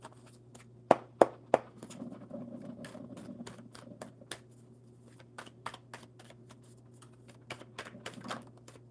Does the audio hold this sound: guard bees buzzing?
no